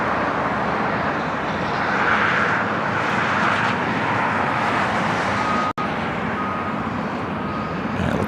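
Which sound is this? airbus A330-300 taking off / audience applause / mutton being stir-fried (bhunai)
airbus A330-300 taking off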